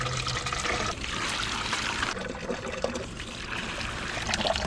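Soft, continuous trickle of water in a home garden, with a steady gentle splashing and dribbling that stays faint and close throughout.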